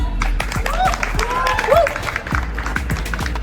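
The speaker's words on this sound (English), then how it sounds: "Let's go cheer for him." An audience at a college-fest food-eating challenge claps and cheers. Sharp, rapid clapping runs throughout, and people talk over it.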